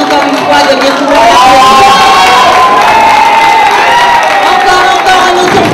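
A loud crowd at a tropical carnival queen election in Colombes cheers and shouts with sustained, dense noise, voices ringing out above it and applause mixed into the steady roar.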